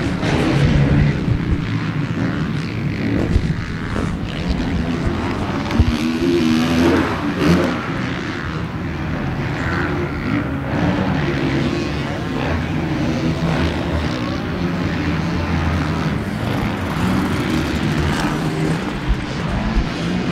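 Motocross bikes race on a dirt track at Paris. A steady roar of engines runs throughout, with revs rising and falling, and a commentator talks over it.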